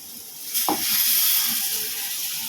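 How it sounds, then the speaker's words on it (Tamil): Water poured into fish curry masala frying in a pan sets off a sudden burst of hissing sizzle that swells and then settles into a steady close steam hiss. "இப்போ கொஞ்சமாக தண்ணி சேர்த்துக்கலாம்"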